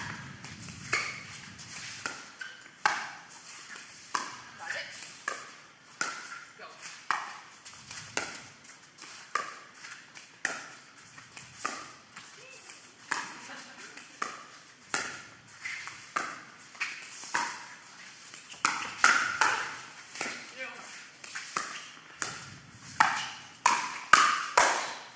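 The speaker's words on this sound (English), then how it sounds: "It's one of the best rallies in Orchard history." An indoor pickleball rally, with paddles striking the ball in a quick, steady run of sharp pops and taps that grow louder toward the end. Faint room noise sits underneath.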